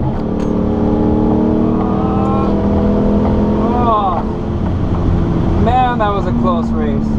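A 6th-generation Chevrolet Camaro races on a track, its engine droning steadily near and loud with rising revs and gear shifts, while a voice talks over it.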